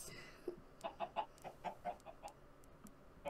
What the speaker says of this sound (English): Can you stop doing chickens?